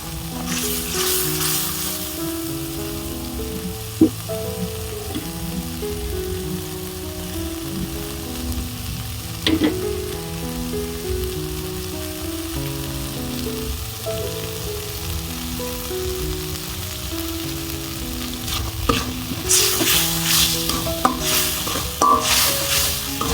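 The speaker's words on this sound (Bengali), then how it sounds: "মশলাটা একটু কষা হবে" Spice masala sautéing in oil for a cabbage and egg curry gives a steady, close sizzle with repeated stirring scrapes, running continuously over soft background music with no talk.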